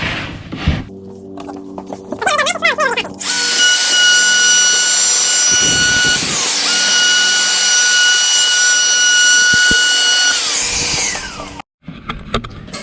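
A router surfacing an epoxy-filled brass table: a loud, continuous high-pitched cutting whine and roar lasting about eight seconds, preceded by brief clattering handling noises and ending abruptly.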